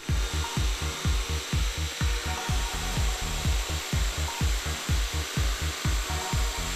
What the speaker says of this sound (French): retournez votre scie et sciez avec une courbe jusqu'à l'autre côté